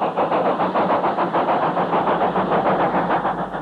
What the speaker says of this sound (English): 75024, with express head code, climbs purposefully up the bank.